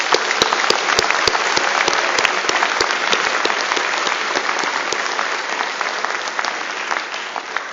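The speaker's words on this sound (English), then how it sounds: "So can we give them a round of applause?" A conference audience applauds at length, dense steady clapping from many hands filling the room at even strength, with a few sharper individual claps standing out near the start, fading only slightly by the end.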